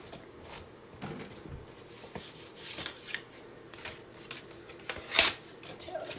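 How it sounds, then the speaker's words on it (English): A sheet of black paper is pulled out and handled at a desk during a glitter pen craft session, giving close rustling, sliding and papery rubs with a sharper crinkle near the end. "I'm gonna get a piece of black paper out."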